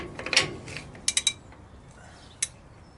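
Wrench snugging a lock nut on the brakes of a single-axle dump truck, a few faint, sharp metallic clicks and ratchet ticks in quick clusters against a quiet background.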